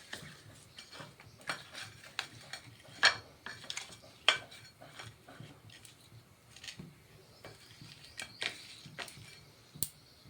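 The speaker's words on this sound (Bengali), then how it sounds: "এইবারে মাছটাকে নুন হলুদ মেশাবো" Fish is mixed with salt and turmeric in a bowl, giving scattered clinks, taps and scrapes at a soft, irregular pace, with a couple of sharper knocks and no talking.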